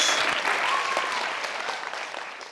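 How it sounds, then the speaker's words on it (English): An audience breaks into a round of applause, a dense burst of many hands clapping together that starts strong and slowly tapers over a couple of seconds, with no talking. "Give these two a round of applause."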